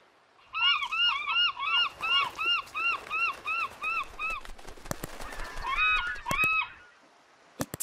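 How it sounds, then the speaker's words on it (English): Cartoon seagulls give a rapid run of about a dozen loud, honking squawks in a steady rhythm, then several sharp clicks and a couple more squawks near the end. "Now there are more seagulls."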